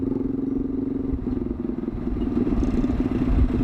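A Kawasaki Z200S motorcycle runs at idle through a loud aftermarket muffler, putting out a close, steady throbbing exhaust that grows slightly louder toward the end.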